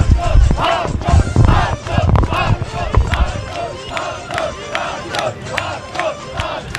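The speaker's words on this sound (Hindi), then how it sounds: "यहाँ पे जितने भी पीटीआई सपोर्टर्स मौजूद हैं बहुत बुलंद आवाजों में वो नारे लगा रहे हैं" PTI supporters loudly chant slogans in a rhythmic crowd roar outside the National Assembly during the 2021 Senate chairmanship election, voices rising and falling in repeated bursts.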